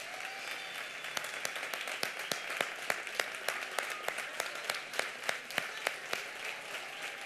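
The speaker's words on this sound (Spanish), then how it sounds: "Un fuerte aplauso para los compañeros que nos han ayudado." Steady applause from a crowd at a carnival proclamation event in Torreperogil, thanking the helpers, with many claps blending into a continuous ripple at moderate distance.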